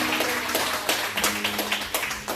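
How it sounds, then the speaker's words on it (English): An audience at a live comedy talk show claps in a short burst of scattered, moderately loud applause, the hand claps irregular and fairly close. "Clap it up."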